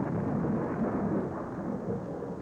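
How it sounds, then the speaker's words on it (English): Thunder in a comedy sketch, a deep continuous rumble with a rain-like wash, steady and fairly loud throughout with no voices. "the noise of the thunder will drown that of my experiments"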